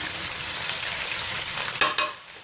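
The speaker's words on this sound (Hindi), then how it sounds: "और इसके साथ इसको मैं फ्राई करूँगी।" Small pieces of chopped chicken, about 150 grams, frying in a pan with garlic already browned, giving a steady close sizzle with a couple of brief stirring clatters near the end.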